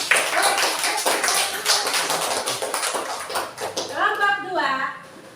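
A classroom of students claps for classmates who have finished presenting, a dense, steady patter of many hands close by that fades as a voice begins speaking near the end.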